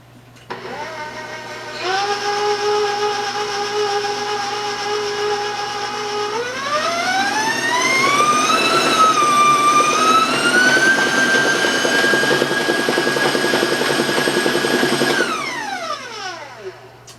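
A stand mixer with its paddle beating oatmeal cake batter, a loud steady motor whine that ramps up in pitch, holds, then winds down at the end.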